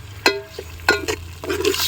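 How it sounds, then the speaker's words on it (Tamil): Crushed garlic sautéing in oil for a crab curry, a close sizzle broken by a few sharp stirring scrapes and clanks of a spoon against the pan. "அது அப்படியே எண்ணெயில் வதங்கட்டும் நல்லா"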